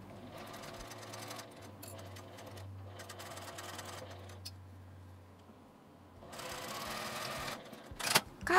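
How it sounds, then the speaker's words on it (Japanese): Electric sewing machine stitching a 1 cm seam on the sleeve of a small doll's kimono, its motor whirring in several steady runs broken by short pauses, close and moderately loud with no talking. "この印から下の端までを1センチの縫い代で縫います。"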